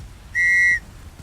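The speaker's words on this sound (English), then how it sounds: "He pulls out a brass whistle," A brass whistle gives one short, shrill, steady blast of about half a second, close and loud against a quiet background.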